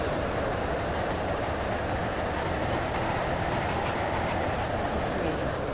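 Steady rumbling of a Class 331 train rolling along the rails in the Roblox game Stepford County Railway, a constant broadband roar with no clear clatter rhythm, close and continuous throughout.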